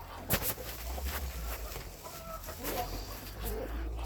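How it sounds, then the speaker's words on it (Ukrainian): A broody hen clucks in a backyard poultry yard among other chickens: low, soft repeated clucks and scattered bird calls over steady outdoor background hum, fairly close, with no talk. "Вона нормально себе почуває, гарна квочка."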